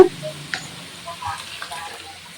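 Vegetables sauté in hot oil in a kadai for a kuzhambu, a soft, steady sizzle with faint stirring clatter, fairly quiet throughout.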